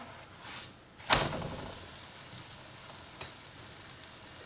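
Potato and çökelek gözleme sizzling in an oiled pan just after being flipped, a sharp clatter at the turn giving way to a steady, close frying hiss with a small knock later.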